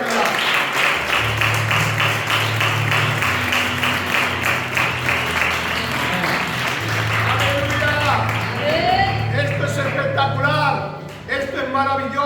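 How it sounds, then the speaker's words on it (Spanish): A crowd at a church service claps and cheers continuously, with sustained applause mixed with shouting voices and a low musical drone underneath. "Denle un aplauso al Señor"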